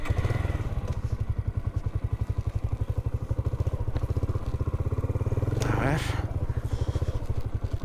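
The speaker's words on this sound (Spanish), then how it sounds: "Vamos a dar vuelta y a empujar la moto." Motorcycle on a mountain dirt road idles with a loud, rapid, even thumping pulse throughout, with a short clatter partway through and someone speaking briefly.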